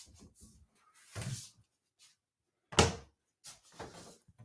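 Cabinet doors in a house are swung open and shut a few times, giving soft scattered knocks, then one sharper close thump and a couple of lighter clicks, nearby and otherwise quiet.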